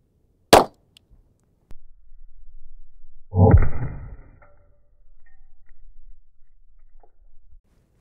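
A powerful round fired at body armor made of metal shavings: one sharp, loud crack near the start, then a second burst with clattering metallic ring and debris, with quieter handling noise between.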